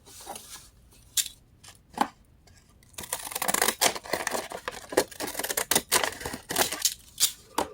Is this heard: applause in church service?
no